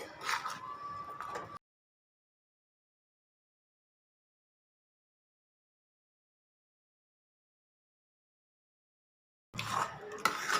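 A spoon scrapes through jaggery and ghee in a pan for Chettinad moong dal ukkarai, in two short close bursts at the start and end with a long silence between them.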